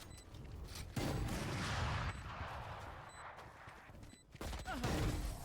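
Shotgun blasts from the video game Valorant, a few loud booming shots spaced across the clip over game background noise, with brief clicks and impacts between them.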